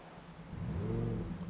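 A Lamborghini Huracan STO engine cranks and catches, swelling into a loud, low rumbling rev that holds briefly before the end.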